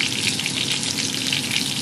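Food frying in hot oil, a dense and continuous crackling sizzle, close and loud, with no pauses and no voices over it.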